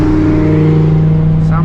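A Nissan 350Z with close to 170,000 miles cruising on an open road, its engine holding a steady, loud drone with harmonic hum, briefly shifting pitch near the end as it downshifts.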